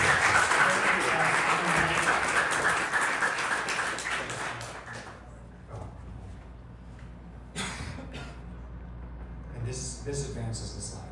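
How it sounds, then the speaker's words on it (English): An audience at an intactivism event applauds loudly and densely for about five seconds, then the clapping fades out, leaving room noise, a few scattered claps and some brief sounds. "So, round of applause for that"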